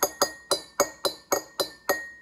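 Eight evenly spaced taps on a glass mason jar holding some water, each a clear ringing clink with a short decay, steady and close.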